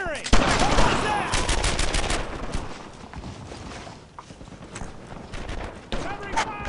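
World War II battle gunfire in Brothers in Arms: Earned in Blood: rapid bursts of rifle and machine-gun fire, loud and dense at first, then sporadic shots, with a soldier shouting over the shooting.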